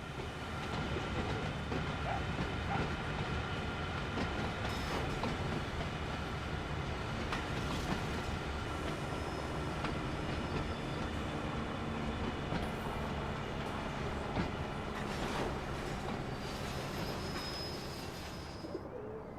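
Freight train in the Train Sim World 5 game rolling steadily, a continuous loud mechanical rumble and grind with faint clickety-clack and occasional squeals, no speech over it.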